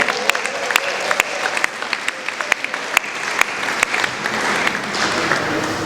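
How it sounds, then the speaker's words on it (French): Audience clapping for a woman artist's work at an indoor workshop gathering, a steady mid-distance patter of many hands with sharp individual claps standing out, sustained throughout. "Est-ce qu'on peut applaudir pour elle?"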